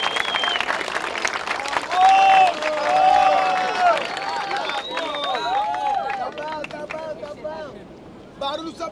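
Battle rap crowd at a semifinal of Batalha do Coliseu in São Paulo roars, whistles and cheers continuously, loud and dense, with a surge of noise around the middle before tapering slightly near the end.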